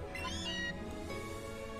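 Meowth meowing in the video game Pokémon Let's Go Eevee, a short rising synthesized cat cry over steady game background music, alone and fairly clear.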